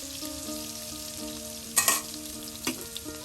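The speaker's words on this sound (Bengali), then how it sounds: "পেঁয়াজ তাহলে ভেজে নেওয়া হবে।" Chopped onions fry in a pan with a steady crackling sizzle, broken by a couple of brief louder stirring scrapes, and no one speaking.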